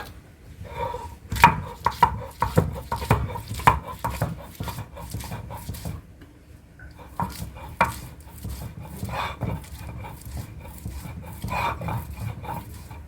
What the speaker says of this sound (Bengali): এখন আমি আদাটা উঠিয়ে নিলাম আলাদাভাবে এখন আমি বেটে নেব